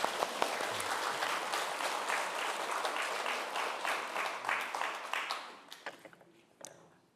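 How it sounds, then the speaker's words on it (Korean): A hall of worshippers at a Buddhist dharma service on the Avatamsaka Sutra breaks into warm applause, dense and steady at first, then thinning out into a few scattered claps before falling quiet. "한번 박수 한번 칩시다"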